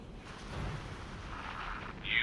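Missiles fire in the X4 space game (Star Wars Interworlds mod) as deep booming rumbles and broadband bursts, ending in a sharp rising hiss, with no talking.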